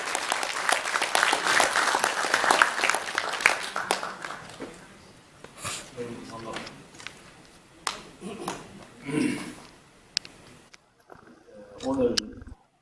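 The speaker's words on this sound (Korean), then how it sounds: "여러분, 박관용 의장님을 박수로 맞아주시기 바랍니다" An audience at a Korean history forum commemorating the founding of the government claps to welcome a former National Assembly speaker, dense applause that thins into scattered claps and fades, with brief talk at the end.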